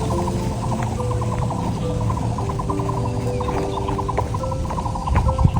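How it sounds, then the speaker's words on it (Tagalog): Birds along a mountain nature trail during breeding season call in repeated chirps and whistles over a continuous low rumble, steady and fairly close, with no talking. "Naririnig nyo ba yung ano, sound ng ibon?"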